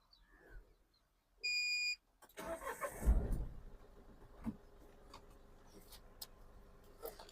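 A Mahindra Veero pickup truck gives a short electronic beep, then its engine cranks and catches with a loud rough burst before settling into a quieter, steady running rumble nearby.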